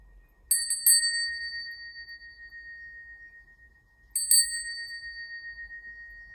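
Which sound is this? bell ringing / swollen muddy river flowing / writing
bell ringing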